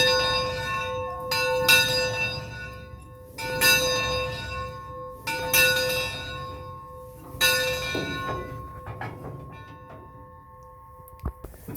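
A locomotive bell on Alabama State Docks Commission 0-6-0 steam locomotive #63 rings in slow, evenly spaced strokes, each loud clang ringing out and fading before the next, about six strikes with no talk.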